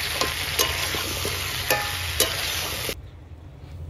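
Potatoes fry in a pan with a steady broadband sizzle and a few soft stirring scrapes, close and fairly loud, then the sound cuts off sharply near the end, leaving faint room noise.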